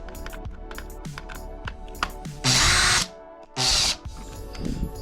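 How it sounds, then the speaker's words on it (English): A handheld power drill spins up in two loud bursts of whirring, each about half a second, close to the listener. Clicks and handling noises come before and between the bursts. "I can just grab my drill."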